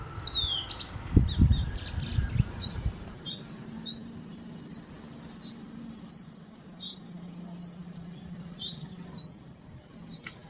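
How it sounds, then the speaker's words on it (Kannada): Unidentified birds call from nearby trees in a rural village with many short, repeated chirps and whistles scattered throughout. A brief louder rustle comes near the start over a quiet outdoor background. "ಪಕ್ಷಿಗಳು ಹಿಂಗ ವಾಯ್ಸ್ ಕೊಡ್ತಾ ಇರ್ತಾವೆ ನೋಡ್ರಿ"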